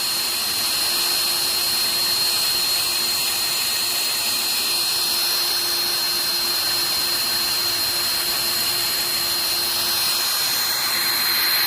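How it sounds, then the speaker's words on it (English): A power sander running at low speed on a headlight with 500-grit paper from a Harbor Freight restoration kit, a steady, close, continuous whine and hiss with no pauses and no talking. "we're going to take our 500 and we're going to sand this lightly. I'm going to go on a low speed"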